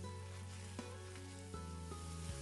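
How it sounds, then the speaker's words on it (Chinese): Shiitake mushrooms stir-fried with soybean paste in a wok, a quiet steady sizzle with a few scraping spatula knocks and a low tonal hum running underneath. "再把香菇也加进来翻炒"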